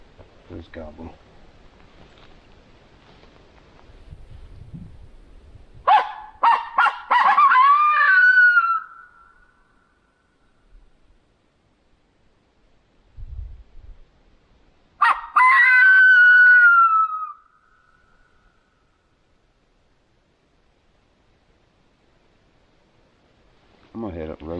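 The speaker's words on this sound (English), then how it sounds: "There's Gobble." Roosted wild turkeys gobbling on public land at hunting season: two loud, rattling gobbles spaced several seconds apart, each lasting a couple of seconds, separated by near silence with a faint low rustle.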